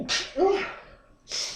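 A single sharp sneeze close to the microphone, followed by a short spoken exclamation and a second breathy burst.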